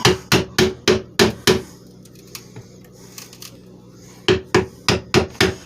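A hammer strikes nailed-in wood in two quick bursts of about six sharp, loud blows each, separated by a quieter pause with faint tapping, during a dishwasher hookup.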